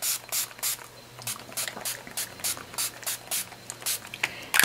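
Spray paint hisses onto a mail art piece in about a dozen short, close bursts with brief pauses between them, applying orange and then red.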